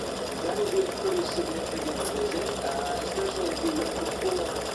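An embroidery machine stitches free-standing lace around the brim of a small St. Patrick's Day hat earring, its fast steady whirring and needle chatter continuing without pause at close range.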